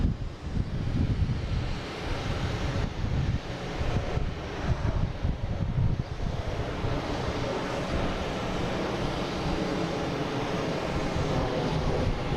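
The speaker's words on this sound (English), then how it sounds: "Next taking off, so is a Delta flight 5721 heading to LaGuardia in E175" Delta Embraer E175 jet airliner taking off at Boston Logan, a broad rumbling engine roar heard from a distance, steady throughout with wind buffeting the microphone.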